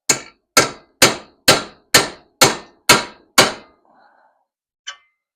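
Eight sharp, evenly spaced hammer strikes tap a Craftsman tool into place on a 1937 Chevy cab chop project, loud and close, followed by a brief quiet rustle and one last lighter tap.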